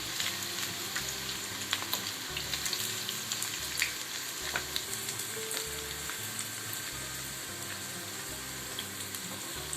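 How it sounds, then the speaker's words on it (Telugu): Chicken 65 pieces deep-fry in oil with a constant, fairly soft crackling sizzle. Scattered clicks mark the pieces being turned over, and a low repeating hum runs underneath. No one talks. "రెండు వైపులా అలా తిప్పుకుంటూ ఉంటే మనకి తొందరగా ఫ్రై అయిపోతుందండి"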